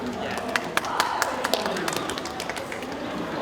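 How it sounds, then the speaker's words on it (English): Sparse, scattered claps from a small audience at an improv show ring out as a thin round of applause, a handful of sharp separate hits over a low murmur of voices. "Pity claps are always fun."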